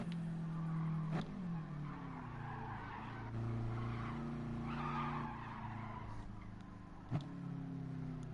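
A pink Viper in a PS4 racing game drifts with tires screeching in long sustained skids while the engine drones underneath, with a couple of sharp tire chirps along the way and no voices.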